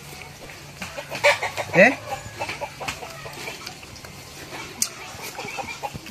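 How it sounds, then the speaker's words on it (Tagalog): Chickens in a rural farmyard cluck in short, scattered bursts near the microphone. A single louder squawk stands out, and a person briefly speaks. "Katayin ko kayo mga manok kayo eh."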